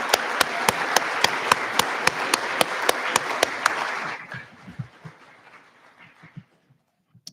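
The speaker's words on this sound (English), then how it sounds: "Let's give them another round of applause for their perseverance and determination" Applause from the audience at a Department of Corrections pre-service academy graduation ceremony, with sharp, evenly spaced claps standing out over the crowd for about four seconds before it fades to scattered handclaps.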